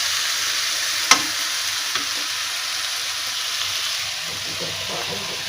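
Onions fry with turmeric and salt in a pan, giving a steady, fairly loud sizzling hiss with one sharp clatter early on and soft stirring scrapes later.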